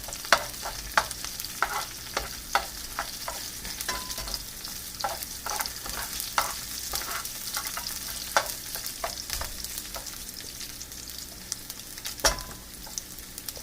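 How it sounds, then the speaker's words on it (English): Thai shrimp in chili sauce with lemongrass is stirred in a frying pan, producing a continuous sizzle under frequent sharp clicks and scrapes of a utensil against the pan. "Give it a stir, let it cook a little bit longer."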